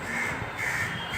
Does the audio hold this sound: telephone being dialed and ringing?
no